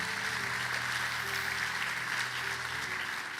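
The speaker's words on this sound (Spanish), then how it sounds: "eso merece un aplauso para el Señor" A church congregation applauds during an evening sermon, a soft, distant, continuous clapping wash with a low sustained hum underneath and no speech.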